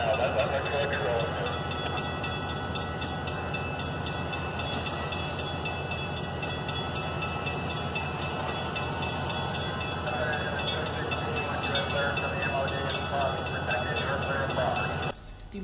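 A Conway Scenic Railroad train rumbles steadily as it pulls away from a Victorian station building, with a continuous mechanical drone and faint clanking, ending with a brief drop in noise.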